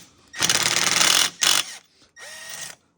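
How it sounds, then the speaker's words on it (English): An impact wrench breaking bolts loose on a 2006 Honda CBR600RR, heard in two loud, close bursts of rapid hammering, then a shorter third burst with a whirring spin-down. "I'm using the impact to break them loose"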